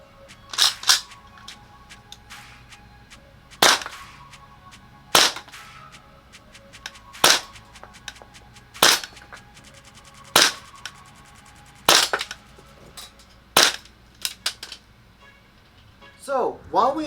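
A Tokyo Marui MWS gas blowback airsoft rifle fires about ten sharp, snappy cracks, single shots spaced one to two seconds apart, each with a quick metallic clack of the bolt cycling, loud and close over faint background noise.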